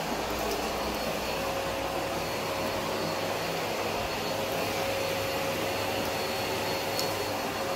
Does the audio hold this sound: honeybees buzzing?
no